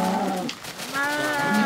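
Cows on a farm in a video game give drawn-out, loud, close moos, one low call followed by another with a short dip between them, and no talk over them.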